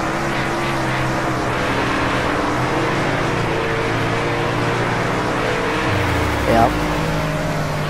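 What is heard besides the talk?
race car engine in the video game World of Outlaws Racing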